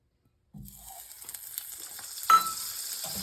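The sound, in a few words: butter melting and sizzling in a pan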